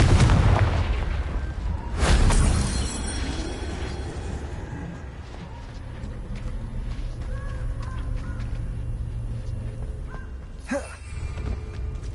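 In Hogwarts Legacy, a Confringo fire spell goes off with heavy booming blasts, a big burst at the start and another about two seconds in, then a rumbling tail and scattered smaller pops.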